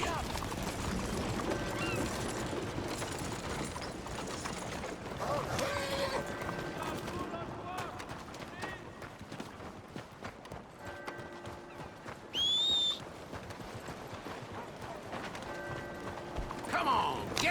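Horse hooves clip-clopping at a gallop in Red Dead Redemption 2, a steady rhythmic pounding under occasional metallic tack jingles, a brief whinny and scattered distant effects, with no talk over it.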